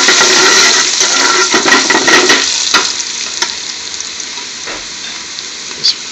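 Chopped garlic and onions for a British Indian restaurant-style sag bhaji frying in a hot pan, a loud steady sizzle with stirring scrapes that fades to a softer hiss, no talking.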